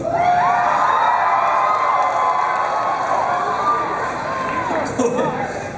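Audience at a Sonic Boom 2013 fan convention Q&A session cheering and shouting, a loud sustained crowd roar with whoops throughout, dipping slightly near the end.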